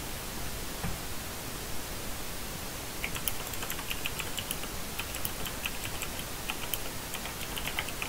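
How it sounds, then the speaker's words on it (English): Typing on a computer keyboard, soft quick clicking bursts that begin partway through and keep going under a steady loud hiss, no talk. "let's just freaking start typing"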